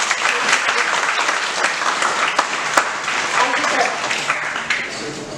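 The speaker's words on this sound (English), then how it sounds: "Clap for him." An audience at a communication skills workshop breaks into sustained applause, dense clapping that stays loud and even for several seconds.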